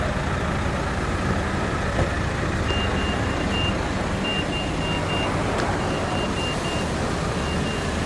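ANS intercity bus at a busy Lebak Bulus bus terminal: a steady diesel engine rumble fills the scene, with a few thin intermittent beeps over the constant low drone.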